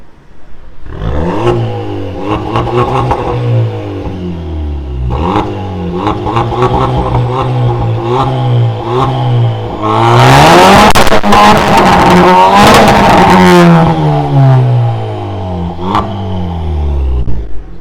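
A Seat Leon 1.4 petrol car with a remote-controlled valve exhaust opened, revving loudly and repeatedly up and down close by, with a sustained harsh high-rev burst in the middle before dropping back.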